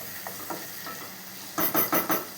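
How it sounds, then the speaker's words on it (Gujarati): Tomatoes being stirred in a frying pan for sev tameta nu shak, a steady low sizzle with faint scrapes, then four louder rhythmic stirring strokes close up near the end, no voices. "2 મિનિટ રહેવા દેશું, સરખું મિક્સ કરી દેશું એટલે ટમેટાં એકદમ સોફ્ટ થઈ જાય"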